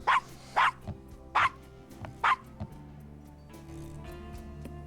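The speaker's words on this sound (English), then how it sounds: "Is that a dog?" A dog barks in the video game Gabriel Knight: Sins of the Fathers (Remake), four loud, evenly spaced barks followed by a fainter one, then a low ambient hum.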